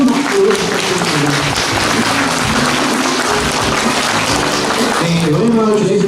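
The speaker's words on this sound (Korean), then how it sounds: "큰 박수 부탁드립니다." Loud, steady applause from the crowd greeting a temple abbot at a Buddhist year-end thanksgiving gathering, with music or voices mixed underneath.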